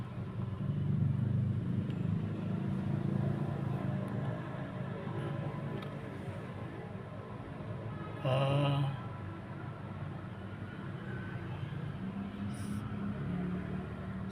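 Steady low road and engine rumble from inside a moving car fills the cabin throughout, with a brief louder bump near the middle and no talk.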